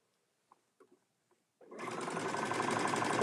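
A sewing machine starts after a few faint clicks and stitches steadily across the corner of a fabric bucket made from fat quarters, running close and continuous to the end.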